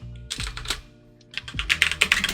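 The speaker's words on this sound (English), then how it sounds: "Here I am going to type in search" Someone types a search command into Metasploit on a computer keyboard. The keystrokes are close and clattering, coming in two quick flurries separated by a brief pause.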